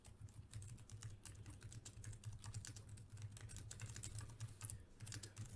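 Rapid, steady clicking of fingers typing on a computer keyboard, heard quietly and alone over a faint low hum.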